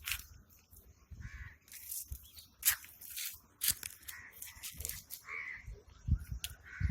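Morning outdoors, a crow caws repeatedly among other calling birds, short harsh calls scattered irregularly, some close and some farther off, with no speech.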